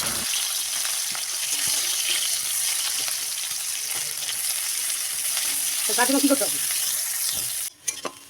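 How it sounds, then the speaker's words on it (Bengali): Whole cumin seeds and chopped onion frying in hot oil in a wok, a loud, constant bright sizzle with brief stirring clatter near the end. "এবার কড়াইতে তেল গরম করে দেব গোটা জিরে, কেটে রাখা পেঁয়াজ"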